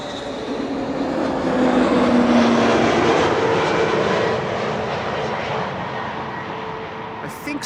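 An airplane at Amsterdam Schiphol Airport produces a sustained, loud, broad jet roar that swells and slowly fades, heard from a distance.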